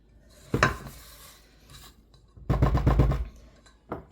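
A rubber spatula scrapes chocolate chip cookie batter around a mixing bowl, giving two short bursts of scraping and clinking against the bowl with quiet pauses between.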